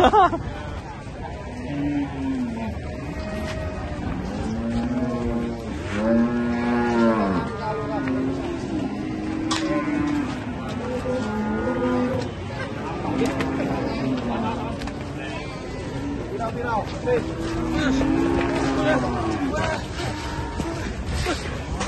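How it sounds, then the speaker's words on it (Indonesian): Cattle moo repeatedly, long low calls rising and falling over a steady murmur of people chattering in the background. "Sapi kalau ngamuk bahaya ya."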